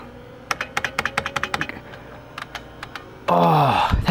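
Typing on an IBM buckling spring keyboard, a burst of loud, sharp clacky keystrokes followed by a few sparse presses, close, then a louder rustling noise.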